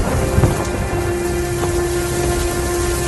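Steady rain hisses loudly throughout, with a low rumble of thunder early on and a constant electrical hum underneath; no voices.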